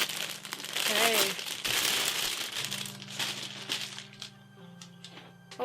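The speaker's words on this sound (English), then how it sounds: "Sorry about that crinkling sound, though I guess it might be a bit of an ASMR experience." Wrapping crinkles and rustles as a package is opened, a close, uneven crackling with short bursts, heard alongside a person talking.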